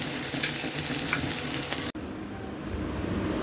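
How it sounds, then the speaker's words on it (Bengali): Onion frying in the same oil just used to fry katla fish, a steady crackling sizzle with stirring that briefly cuts out, then resumes softer and continuous. "যেই তেলে আমি মাছটা ভেজে নিয়েছিলাম ওই তেলেই আমি পেঁয়াজটা ভাজতেছি"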